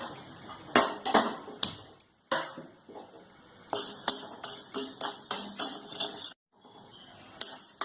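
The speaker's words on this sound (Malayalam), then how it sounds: "രണ്ടും കൂടി ഇങ്ങനെ വറുത്തെടുക്കാം." Rice and black pepper are dry-roasted in a pan, with bursts of rattling and scraping as the grains are stirred. Short pauses break up the stirring, and no one speaks.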